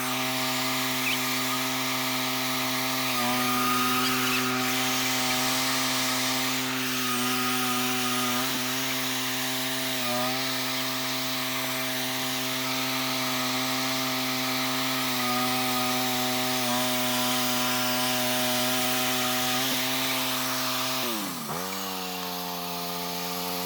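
A bandsaw mill cuts through a log to square it into a wood cant. Its motor drone is loud, close and steady with a strong tonal hum for about twenty seconds, then dips and winds down near the end.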